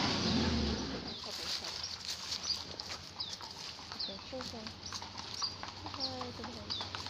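Horses' hooves clip-clop at a charity polo event on a hot day, a loose, uneven patter beneath nearby voices, with birdsong and a low outdoor hum around them.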